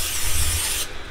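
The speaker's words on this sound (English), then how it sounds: "we're gonna spray it really well. I just got some spray butter." Spray butter hisses from a can onto a baking pan in a steady, close, continuous spray for about a second, ending abruptly, with no talking.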